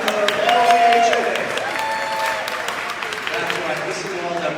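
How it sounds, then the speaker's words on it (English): Crowd at a Las Vegas sports panel luncheon applauding and cheering, a loud burst of clapping that tapers to a steady patter, with a voice speaking over it. "listen to all that boring crowd"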